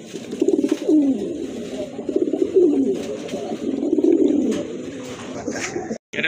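Pigeons at a market coo in low, rolling murmurs, overlapping continuously at moderate distance, with faint background bustle and occasional voices.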